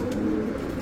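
Imported racing pigeons with Dubai leg tags coo in a steady, low, continuous murmur close by, filling the short stretch without pause.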